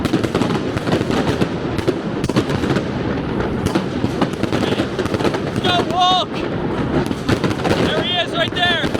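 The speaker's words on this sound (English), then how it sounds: "Oh, fireworks." Dense crackling bursts of fireworks go off amid a loud, noisy crowd at the start of the 2023 Pittsburgh Marathon, with a few whistling rising streaks near the end.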